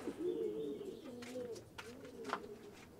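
A pigeon coos in low, throaty, rolling calls close by, repeated several times, with a few faint chirps and rustles in the background.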